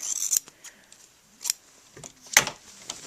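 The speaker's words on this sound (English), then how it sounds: "now I've started to grade my seams, which means cutting the seam farthest away from the body of the garment shorter" Sewing scissors trim a fabric seam allowance in a few separate crisp snips, close and sharp, with short quiet gaps between the cuts.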